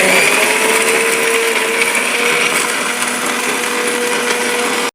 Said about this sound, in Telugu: ఇప్పుడు మనం దీన్ని మిక్సీ వేసుకున్నాము